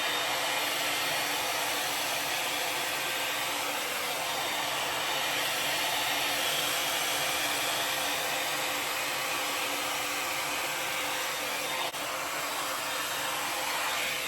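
A Wavytalk Air Sculpt 5-in-1 hot air brush blows steadily while drying hair, a continuous loud, even whoosh of airflow with a faint motor whine that runs unbroken from start to finish.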